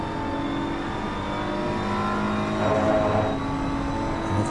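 Race car engines droning steadily in a sim racing game at Watkins Glen, a BMW chasing an Audi through the chicanes, with a slight swell in engine pitch midway and no talk over it.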